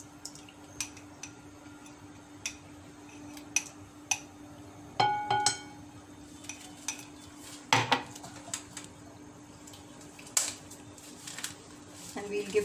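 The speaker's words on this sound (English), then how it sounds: "I will just be mixing my coconut milk that I have here for this recipe" Coconut milk being stirred into oils for cold process coffee soap, with repeated clinks and scrapes of a utensil against a bowl, irregular taps over a quiet background hum.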